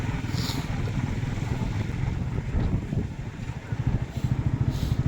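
A motorcycle rides at night along a forest road toward a village, a continuous engine drone mixed with heavy wind buffeting on the microphone, steady and close throughout.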